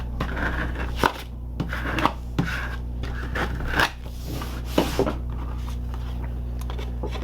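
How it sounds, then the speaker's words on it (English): A scraper burnishing a folded paper card, with soft repeated scraping and rubbing strokes and occasional light taps, close and quiet over a low steady hum. "I will flip the card over and I'm going to burnish everything with my scraper."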